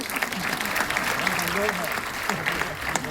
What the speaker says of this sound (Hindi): इनके लिए ताली बजाइए, बड़े अच्छे दोस्त हैं हमारे।